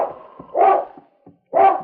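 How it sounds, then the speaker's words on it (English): Husky sled dog named King barking in the Yukon, two loud, close barks about a second apart with brief whimpering noises between. "suddenly King began to bark"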